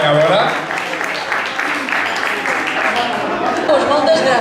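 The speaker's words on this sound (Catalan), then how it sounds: "un fort aplaudiment per ella" Applause for the winner of a potato omelette cook-off, with steady clapping from a room crowd mixed with voices and chatter running underneath.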